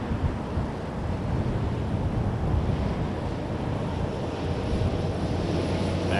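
A WestJet Boeing 737 Max 8 airliner in Swoop livery at Toronto Pearson Airport gives a steady, loud engine roar throughout, mixed with gusty wind buffeting the microphone.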